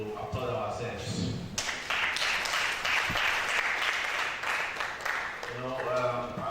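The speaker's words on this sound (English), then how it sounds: "I think that we need to applaud ourselves" An audience at a university research day applauds for a few seconds, a broad wash of clapping that follows and is followed by a speaker's voice.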